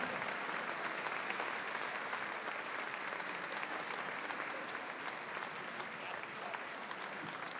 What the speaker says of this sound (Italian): Questo è l'applauso del Teatro Storchi